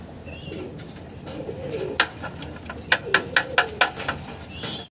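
Damascene pigeons at a pigeon sale coo and flutter nearby, with a quick series of about six rhythmic, bright pulses near the end over a low background hum.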